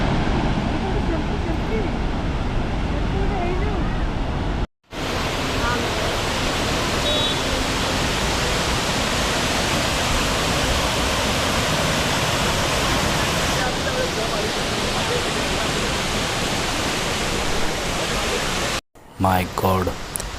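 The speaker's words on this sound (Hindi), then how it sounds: "रोड को बिल्कुल छू कर बह रहा चेहरापरा वाटरफॉल।" The Cheeyappara waterfall, flowing right beside the road near Munnar in Kerala, roars as a loud, steady broadband rush close by, with two short breaks in the sound.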